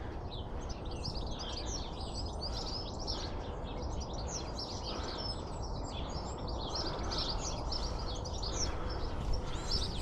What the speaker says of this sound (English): Nice to hear the birds singing.